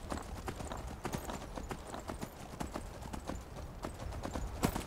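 Horse hooves clip-clop at a steady riding rhythm in the video game Skyrim, with repeated sharp hoof strikes at moderate loudness over a constant low background.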